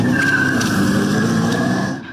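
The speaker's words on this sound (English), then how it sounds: "the sounds and smell of tires burning rubber are real" An electric car's tires squeal and skid in a sustained screech, burning rubber over engine noise, fading at the end.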